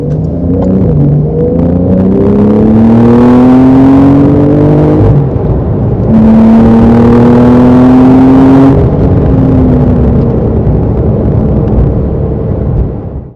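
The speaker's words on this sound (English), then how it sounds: "this having the sports exhaust by a press of a button. Sounds absolutely phenomenal." A 2019 Porsche 911 Carrera S (992) with sports exhaust revs loudly and close by, rising in pitch in two long sweeps with a brief easing between them.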